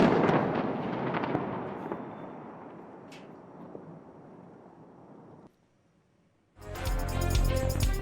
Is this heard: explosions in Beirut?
yes